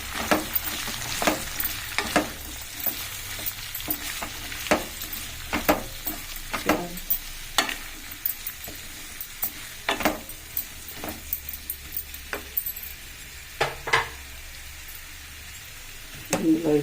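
Onion, ginger and garlic fry in a pan with a low, steady sizzle, broken by frequent scraping stirs and clinks of a utensil against the pan.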